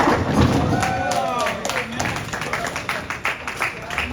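A tennis crowd at a junior tournament final cheers and claps, a loud burst of applause and raised voices that swells at first and then thins into scattered claps and chatter.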